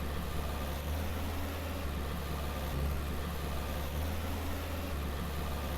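Steady, low tractor engine drone in the farming game Farmer's Dynasty as the tractor pulls a 5-spaded plow, a constant rumbling hum with little variation, moderately quiet and without talk.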